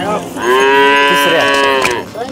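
A cow gives one long, loud moo close by at a cattle market in Modnimb, Maharashtra, a deep drawn-out bellow that rises and then trails off.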